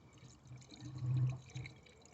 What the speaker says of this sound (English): Get some coolant in there.